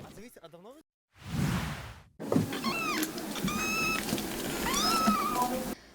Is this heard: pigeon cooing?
no